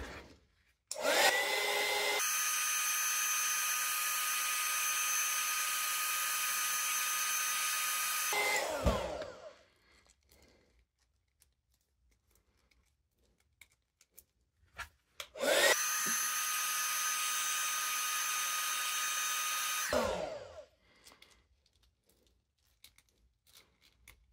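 A heat gun warming a G.I. Joe Classified action figure for disassembly blows in two loud, steady bursts of whooshing fan and motor noise, each several seconds long, separated by near silence with small handling clicks.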